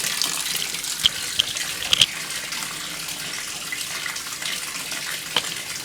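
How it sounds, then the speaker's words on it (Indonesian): Water rushes steadily through the inlet of a Samsung washing machine as it fills, a continuous hissing flow close by with a few faint clicks and small splashes, no talking. "Ini airnya masuk ya, berarti sistem yang bekerja saat ini water inlet dan juga sensor pressure-nya."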